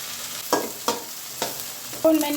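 Chopped onion and whole spices frying in mustard oil for meat, a steady sizzle broken by four distinct stirring scrapes in the pan.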